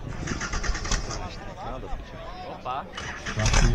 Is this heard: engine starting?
yes